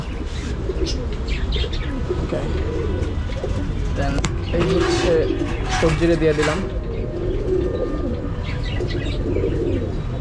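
Adopted pigeons, a long-paired couple of lively Jalali-style birds, coo repeatedly in a loft with overlapping throaty calls and a few chirps, close and fairly loud while someone talks over them.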